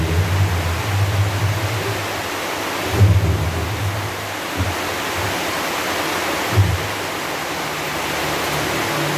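Heavy rain pours in a dense, continuous roar with a deep rumbling undertone, and two brief louder swells break through it.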